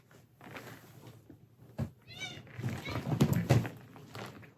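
An upset house cat lets out a few short, close meows and grumbles while being picked up, with a soft thump and some faint handling noise around it.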